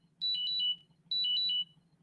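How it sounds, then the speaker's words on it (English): A phone alarm going off, two short bursts of bright repeating electronic tones separated by a brief pause, loud and close over a quiet room hum. "My alarm went off."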